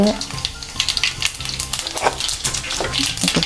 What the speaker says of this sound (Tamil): கடுகு கொஞ்சம் போடுவோம் கடுகு வடிக்க தொடங்குது